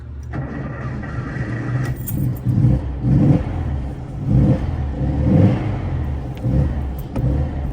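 A cold 1968 Porsche 912 being started, a rattle like jangling keys, then the flat-four engine cranking, catching and revving unevenly in several close swells before settling toward idle.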